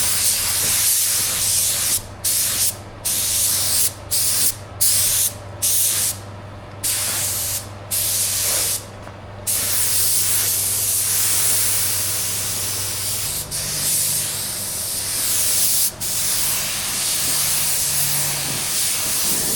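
A paint spray gun hisses in repeated bursts, laying pearl white coats onto a car bumper, each pass broken by short pauses, with a steady low hum of a compressor or booth fan underneath.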